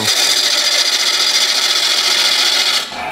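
A woodturning tool takes a heavy cut more than half an inch wide on a spinning lathe, giving a loud, steady scraping rasp that stops abruptly near the end.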